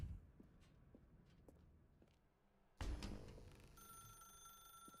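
In The Stanley Parable, a telephone starts ringing with a sudden electronic tone after a few soft footsteps in a quiet room, holding a steady ring throughout.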